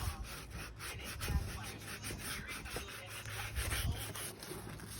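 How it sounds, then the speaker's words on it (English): Sandpaper lightly scuffing the rim of a leather car steering wheel, a quiet, close rhythmic rubbing made of repeated short strokes with no talking. "You can kind of bend the sandpaper around the rim with your fingers."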